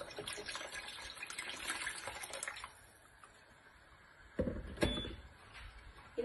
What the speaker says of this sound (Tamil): தண்ணி ஆட் பண்ணிடலாம்